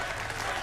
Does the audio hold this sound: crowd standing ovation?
yes